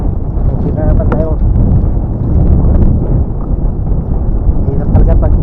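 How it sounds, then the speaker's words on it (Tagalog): Strong wind at sea buffets loudly and constantly, a deep roaring rumble with faint voices mixed in. "Mahangin talaga."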